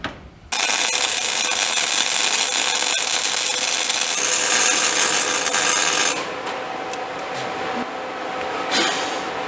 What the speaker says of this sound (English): I'm gonna weld that bracket to the frame